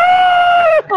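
A football supporter's loud, sustained shout before a Jorge Wilstermann match, one long held yell that drops sharply at the end, followed by a brief second vocal burst.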